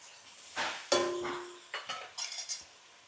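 Vegetables such as beans, carrot and capsicum tossed in a hot pan over an onion, ginger and garlic base, with close clinks of a spoon against the metal, scraping stirs and soft sizzling across a few seconds.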